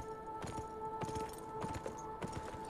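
Horse hooves clip-clop in the video game Beyond Two Souls, a steady rhythmic walking gait of distinct hoof strikes over a soft tonal game background hum.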